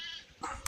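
A goat gives one short bleat close by at a goat market, followed by a brief thump.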